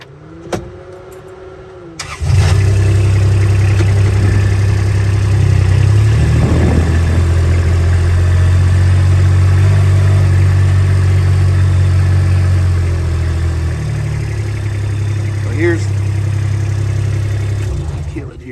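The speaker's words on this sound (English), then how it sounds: "I'm going to crank up the RTV and we'll move on to the next one." A Kubota RTV utility vehicle out in a field of young oak trees cranks over and catches, then idles and runs with a loud, steady mid-pitched drone that continues to the end.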